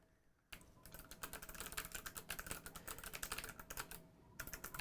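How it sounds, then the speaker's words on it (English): Rapid typing on a computer keyboard during an online orientation and open house, a dense run of close, crisp key clicks after a brief quiet start, with a short pause near the end before the tapping resumes. "So I'm typing in, it all seems okay so far"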